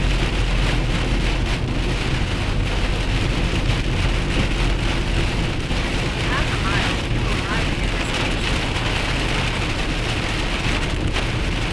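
Heavy rain pours steadily through a thunderstorm, a dense, constant hiss filling the scene at close range, with low rumbling underneath and some faint voices mixed in.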